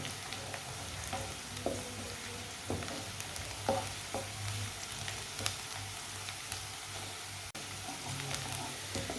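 Onions fry until lightly browned for a winter egg recipe, giving a steady loud sizzle that fills the whole stretch. Occasional scraping stir strokes and small ticks from the pan sit on top, close up and with no voices.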